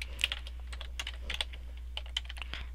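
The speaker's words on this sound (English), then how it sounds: "now you want to type in" Quick, uneven clacking of keys on a computer keyboard, close and crisp, with short pauses between bursts of keystrokes over a low steady hum.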